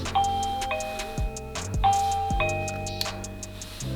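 Arenti video doorbell chime after the bell button is pressed, a two-tone electronic ding-dong played twice, clear and close, with faint clicks between the tones and no talk.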